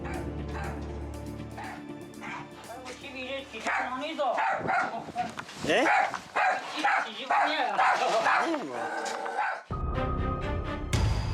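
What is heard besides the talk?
puppy barking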